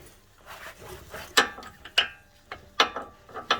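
A ratchet wrench clicks through several quick bursts of pawl ticks while loosening the front strut on a Hyundai Sonata, close and crisp, with a soft mechanical rattle between strokes.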